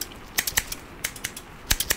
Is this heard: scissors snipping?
yes